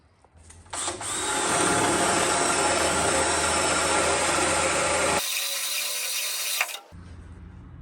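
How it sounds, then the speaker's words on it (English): Power drill boring holes through wood during house construction, a loud sustained whine lasting several seconds that shifts pitch as the bit breaks through, then stops. "I've drilled some holes through there."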